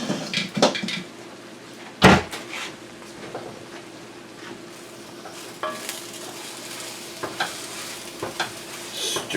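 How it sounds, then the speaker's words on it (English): Kung Pao chicken being stirred through its sauce in a hot pan, a close, loud sizzle and frying hiss with scraping spoon strokes and an occasional sharp clack of utensil on pan. "Stir that in to get it coated with the sauce."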